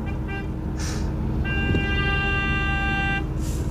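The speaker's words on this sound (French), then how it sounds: "Pourquoi il klaxonne tous?" Car horns honking in traffic over a steady engine rumble, a short toot followed by a longer sustained blare, with another brief honk at the end, loud and nearby.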